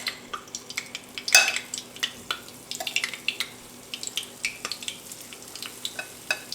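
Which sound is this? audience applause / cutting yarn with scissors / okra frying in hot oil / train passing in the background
okra frying in hot oil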